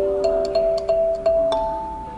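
A kalimba plucking short phrases on notes 3 and 6, about half a dozen soft chiming tones in quick succession that sustain and blend, played close and alone.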